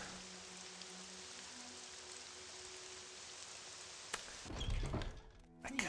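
Steady rain patters on surfaces in Morrowind, a dense even hiss for about four seconds before a few soft thunks and footstep-like sounds break in near the end.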